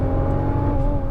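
A Nissan GT-R engine revs hard under throttle on a race track, a loud, steady high-pitched drone with a clear rising tone, alone and close.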